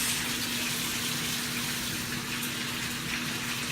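Water from a kitchen tap runs steadily while hands are quickly washed, a loud, continuous gushing spray that fills the whole stretch with no talking.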